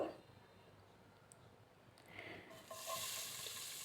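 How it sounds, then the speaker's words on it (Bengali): Sliced onions go into hot oil to be fried crisp for hilsa pulao; a faint background hiss swells into a steady, brighter sizzle partway through, with no talking. "তেলটা একটু গরম হওয়ার পরে এখন আমি দিয়ে দিব পেঁয়াজ এগুলো আমি বেরেস্তা করে নিব"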